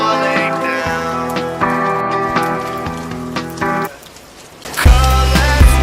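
Steady rain falls beneath a slow melancholy song with a harmonic backing, the downpour hiss carrying throughout, briefly exposed when the music drops out near the end, with heavy drops and a deep rumble swelling at the close.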